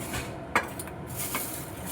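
A metal wok (karai) is set down on a kitchen stove, a short close clank followed by a fainter second knock over steady background hiss, no talking.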